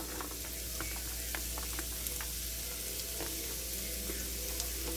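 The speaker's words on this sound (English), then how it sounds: "So now we're going to go ahead and add our onions and garlic." Onions and garlic sautéing in a pan give a steady, moderately quiet sizzle with faint crackles and occasional stirring clicks, with no talking.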